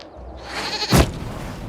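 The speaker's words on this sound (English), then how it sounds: "we discovered this man attacking the building with a goat" A single goat bleat rises out of low ambient game sound in Dragon Age Inquisition on PS5, loud and close near the middle of the moment.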